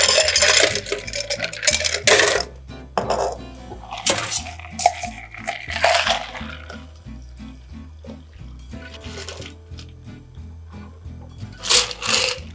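A peach rum and brandy punch is poured from a shaker into a tall glass of ice, with intermittent splashing bursts, clinking ice and glass knocks close up between quieter pauses.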